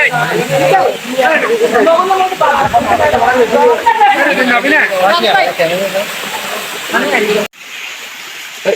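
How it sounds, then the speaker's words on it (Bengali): Rushing water of the Boroitoli waterfall hisses steadily in the background while people nearby talk excitedly over it, the water staying a constant wash beneath their voices. "ঝর্ণা"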